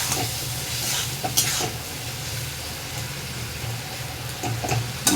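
Spice paste fries on high heat in a pan, giving off a steady, close sizzle with occasional stirring scrapes and louder crackling bursts, no voices over it.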